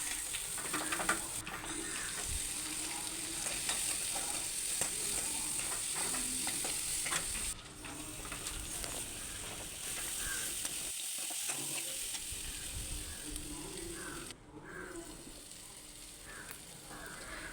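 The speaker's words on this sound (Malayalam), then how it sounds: "അരിഞ്ഞു വെച്ചിരിക്കുന്ന സവാളയും പച്ചമുളകും കൂടി ഇട്ട് നന്നായിട്ട് വഴറ്റിയെടുക്കണം" Ginger, garlic, onion and green chillies sauté in a pan with salt, a steady close sizzle under repeated scraping and stirring strokes, with brief softer gaps along the way.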